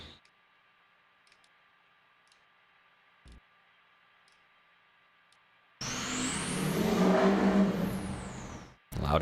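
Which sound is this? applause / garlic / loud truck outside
loud truck outside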